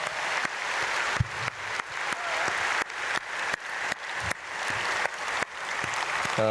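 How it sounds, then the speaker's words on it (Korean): Church congregation at a dawn prayer service applauding to bless grade 4–6 youth school students, dense sustained clapping with a few brief breaks, fairly close and steady, ending with a voice starting. "우리 끝까지 잘 감당하도록 박수로 축복하겠습니다."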